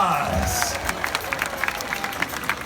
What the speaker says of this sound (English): Everyone give yourselves a big round of applause.